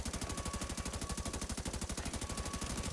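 Rapid automatic gunfire in a video game rattles on steadily in an evenly spaced burst, loud and alone.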